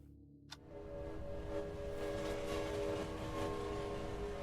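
A train passing through in a video game level, a loud steady rumble with sustained horn-like tones rising sharply after a brief click and then filling the whole stretch.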